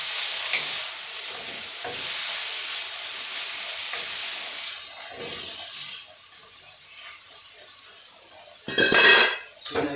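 Onions frying and caramelising in a pan give a steady soft sizzle, broken by occasional scrapes and clinks of stirring and a louder clatter near the end.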